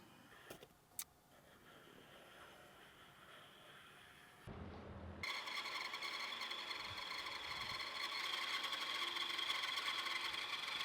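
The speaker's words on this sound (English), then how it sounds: "I will first cut off the excess parts on my tiny bandsaw." A small benchtop bandsaw cuts excess off a wooden board: after a couple of faint clicks and a low lull, the motor starts and holds a steady, quiet whining hum with a thin blade hiss to the end.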